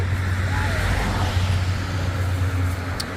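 A vehicle engine idles close by at a roadside fruit stall in Kanchanaburi, a steady low hum running throughout under faint background noise.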